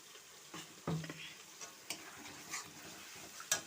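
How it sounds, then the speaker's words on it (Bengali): Masala with tomato paste frying in a pan for pangas fish curry, a soft, low sizzle with intermittent scraping and stirring taps of a spatula, fairly quiet and close. "টমেটোর বাটাটা দিয়েও আবার একটু কষিয়ে"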